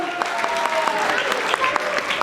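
A festival audience applauds children after their performance at a Yugadi event, a brief burst of dense, even clapping.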